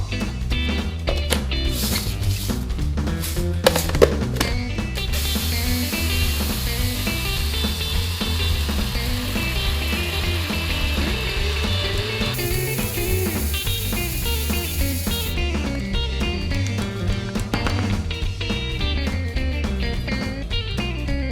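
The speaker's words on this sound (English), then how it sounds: "I'm just gonna put it in my blender and blend away." A blender grinding Sonora soft white wheat berries into flour, a loud, dense whirring roar that runs continuously with shifting grit and rattle, no voices.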